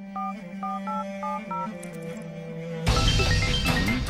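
A telephone keypad sounds a quick run of dialing tones over a low steady hum, then a loud, harsh, noisy burst cuts in and holds to the end.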